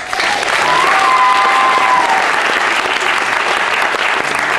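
Dense, steady applause from a concert audience greeting a singer at a student band performance of rock covers, loud and sustained throughout with a faint tonal whistle-like line briefly over it.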